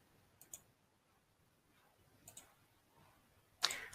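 A computer mouse being right-clicked, a few soft, close clicks spaced apart in a quiet room, the last one sharper and louder.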